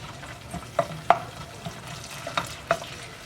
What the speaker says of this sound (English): this is the wooden spoon. I use it to mix it, set it up to get the tomato settled in the oil